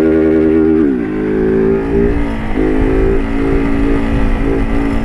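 A Honda Start motorcycle engine at a deserted track, loud and close, revving up and holding a high droning pitch with a few shifts and dips in tone.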